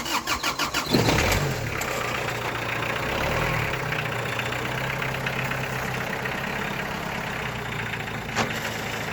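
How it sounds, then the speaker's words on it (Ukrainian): A Kubota GT5 tractor engine cranks a few quick turns, catches, and settles into a steady, loud nearby idle. No voices. "Зараз заведемо, покажемо, як заводиться"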